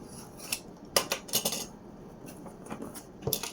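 Scissors or a blade cutting through tape and cardboard on a DJI Mini 5 Pro drone box during unboxing, a few sharp snipping and scraping bursts, close and alone.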